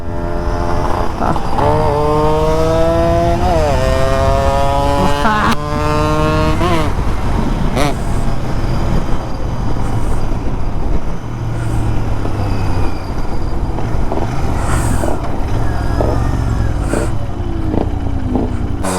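A Yamaha RX135 two-stroke motorcycle runs close and loud, its engine revving up and down in rising and falling sweeps before settling into a raspy, crackling idle beat that continues throughout.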